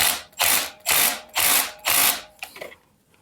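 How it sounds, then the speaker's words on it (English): Impact wrench loosening a stubborn bolt during a KTM 690 SMC-R oil change, firing four loud, close hammering bursts of about half a second each with short gaps between, then a few fainter rattles as it stops. "how an impact works, it gives shocks to the bolt."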